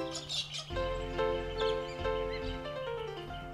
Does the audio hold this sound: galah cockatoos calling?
yes